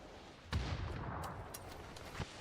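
A grenade detonates in a competitive shooter match, a single muffled boom with a rumbling tail, followed by faint scattered gunfire-like cracks in the background.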